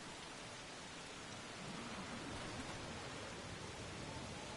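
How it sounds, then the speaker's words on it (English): Dense, steady rain roaring evenly throughout, with a low rumble of thunder swelling faintly in the middle. "It's raining like crazy though."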